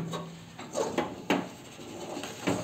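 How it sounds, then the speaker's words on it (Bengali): Stirring rice pulao with katla fish in a pot over high heat, a utensil scraping and knocking against the pot in irregular strokes, fairly quiet and close with no talk. "কনস্ট্যান্ট নাড়তে রয়েছি, নাহলে লেগে যাবে"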